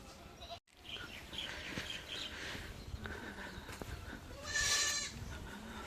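Goats, one of them unwell in the cold weather, bleat close by in a loud rising cry toward the end, over a busy outdoor background with faint bird chirps.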